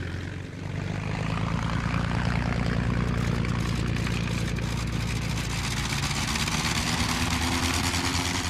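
Propeller engine of a WWI Fokker aircraft taking off, a loud, steady droning roar with a low throbbing hum that holds continuously throughout, close and alone with no voices.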